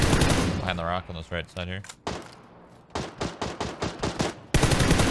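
Rapid bursts of gunfire from the battle-royale video game PUBG crack loudly at the start and end, with a scattered volley in between, while someone talks over much of it.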